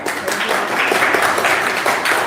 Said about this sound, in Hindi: बस बेटा इतनी भी तालियां मत बजाइए कि हम लोग डर जाएं